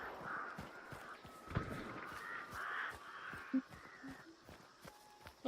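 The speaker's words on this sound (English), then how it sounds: "Those birds were next to me, but I don't know if I set them off." Crows caw from a roof close by outdoors. The calls come as a few scattered, faint caws over a soft background, with footstep-like shuffles and thuds in between.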